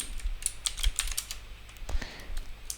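Quick bursts of keystrokes as code is typed on a computer keyboard, close light clicks in irregular clusters with brief pauses and no talk.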